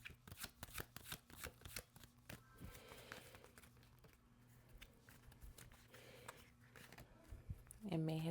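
Tarot cards being shuffled during a reading, a steady run of soft papery riffles and flicks close by with a brief louder burst near the end and speech-like sounds faintly underneath.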